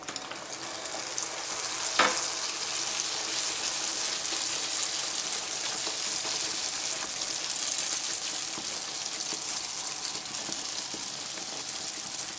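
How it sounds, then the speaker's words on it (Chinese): Flatbread dough slid into hot oil at high temperature fries with a dense, steady sizzle and crackle, close and continuous, with a brief sharp pop early on. "起锅放油，油温达到7、8成热，放入饼皮。"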